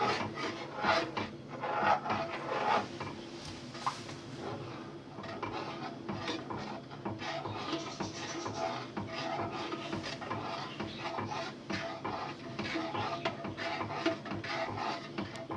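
A spoon scrapes and rubs steadily around a pot of thickening milk while it is stirred nonstop for a chewable milk dessert. The soft, continuous rasping carries faint clinks against the pot, with no talk.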